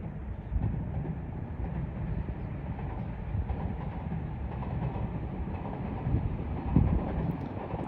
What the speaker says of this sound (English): that's the romance car to Hakone